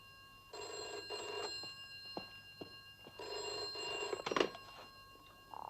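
Old telephone bell ringing indoors in two long bursts separated by a pause, with faint clicks and rustling between the rings.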